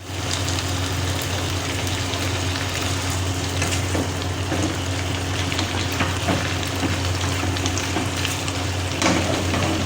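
Beef sizzles and bubbles in a karahi as its water cooks off, a loud, close, continuous frying crackle with occasional stirring clinks and a steady low hum beneath.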